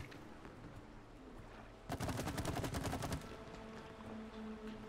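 A rapid burst of automatic gunfire in a video game, loud and dense for just over a second, set against a steady background din.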